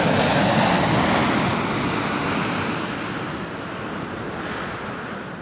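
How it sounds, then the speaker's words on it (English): Airbus A350-1000 airliner at an airport, a steady broad jet-engine roar with a faint high whine, loud at first and easing off slightly as it continues alone. "No way, that's an A350 1000."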